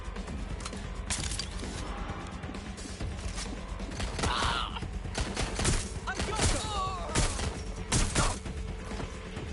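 Gunfire in the video game Watch Dogs Legion, scattered bursts and single cracks mixed with clanking mechanical noise and game ambience, moderately loud with no talking.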